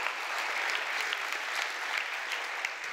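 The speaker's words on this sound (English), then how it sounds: "Can we clap for the go team?" Church audience applauding a missions go team, dense continuous clapping from many hands filling the whole stretch, fairly near and even in loudness.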